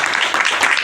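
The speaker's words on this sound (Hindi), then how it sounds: "इनके लिए मैं चाहता हूँ जोरदार ताली" A broad, steady wash of audience applause fills the brief moment at a political gathering, dense and even from start to finish.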